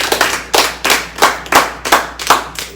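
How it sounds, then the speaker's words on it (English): Applause for a guest on an interview show: a small group claps in distinct bursts of about eight separate claps, close and fairly loud, with nobody speaking. "give a round of applause"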